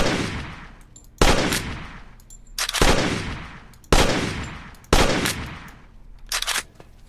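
Scoped AK rifle fire in a video game, five loud, close bursts each ringing out into a decaying tail, spaced roughly a second apart, with a shorter crackle of shots at the end.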